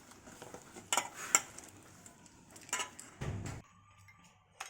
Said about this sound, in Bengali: এটার মধ্যে আমি এবার পরিমাণ মতন জল দিয়ে এটা ব্যাটারটা বানিয়ে নেব